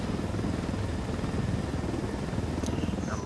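A helicopter in a video game, a steady dense rotor drone filling the scene at constant loudness from start to finish, with no one talking over it.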